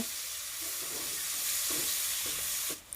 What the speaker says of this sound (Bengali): পেঁয়াজটাকে একটু সামান্য লাল লাল করে ভেজে নেব